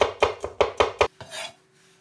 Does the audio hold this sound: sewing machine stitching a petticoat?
no